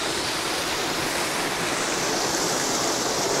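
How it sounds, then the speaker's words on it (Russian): Olginsky waterfalls in Abkhazia give a steady, dense roar of rushing water that holds an even, full loudness throughout, with no voices. "Говорят, что название свое водопады получили от княгини Ольги"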